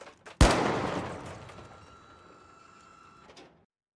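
A single sharp gunshot in the shooter game THE FINALS, fired at a distant button, followed by a long ringing mechanical whir that fades after about three seconds.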